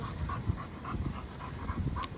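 A dog pants and whimpers close by in short uneven bursts, faint under outdoor ambience.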